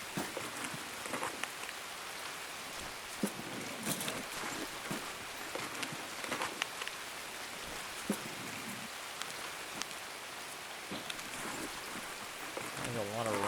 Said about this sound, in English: There's a lot of rain.